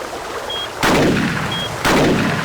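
Two loud rifle shots in the hunting video game Cabela's Alaskan Adventures, each a sharp booming crack with a short decaying echo, about a second apart over steady background noise.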